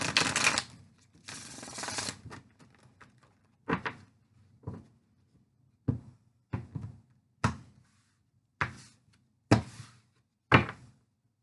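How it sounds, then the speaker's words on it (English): Tarot cards being shuffled by hand, two dense riffling bursts at the start followed by a run of sharp, evenly spaced taps as the deck is knocked and cut, close and fairly loud with no talking. "One shuffle and then we'll get into it."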